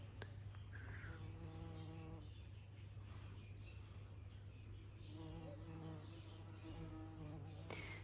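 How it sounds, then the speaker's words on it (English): Bees buzz in short close bursts as they crawl into snapdragon flowers in a July garden, with a faint low hum underneath and quiet gaps between the buzzing. "I love watching bees go in these snapdragons"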